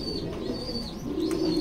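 Racer pigeons coo steadily in a loft, a dense, continuous murmur of overlapping calls from several birds nearby.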